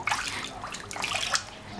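Bathwater sloshes and splashes in a tub during a cheerful bath, a close, continuous wet swishing with a few brighter splashes across the short stretch, no voices.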